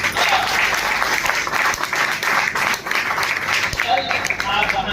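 Loud, dense applause from a seminar audience fills the whole stretch, with many hands clapping steadily and no pauses or spoken voices on top.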